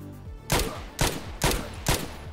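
Four evenly spaced SMG shots from Escape from Tarkov ring out against armor in a test range, each a sharp close crack with a short decaying tail, about half a second apart.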